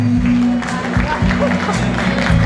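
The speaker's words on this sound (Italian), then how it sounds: "Facciamogli un applauso." Audience applause at the Miss and Mister Il Friuli 2013 beauty pageant, a busy crowd clapping under a strong low musical beat, steady and fairly loud throughout.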